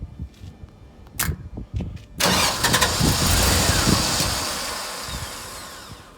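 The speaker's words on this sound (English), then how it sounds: "So we'll start this engine up." An engine on a hydraulic test rig with an MFC control valve cranks with a few short bursts, then catches at about two seconds and settles into a steady, loud running drone that fades slightly toward the end.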